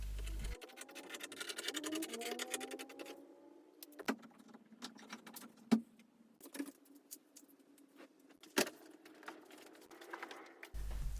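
An old bed sheet is cut to length in a garage, giving quiet scratchy snipping and rustling of fabric with a few sharp clicks and taps, close and faint, with no talking.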